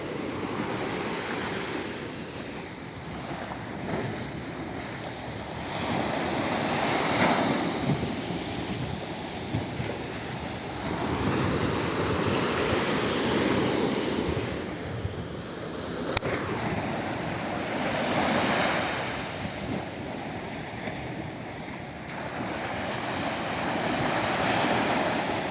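Surf rolls in and washes over a beach in Alexandria, Egypt, in slow, repeated swells, with wind rushing against the microphone throughout and no one talking.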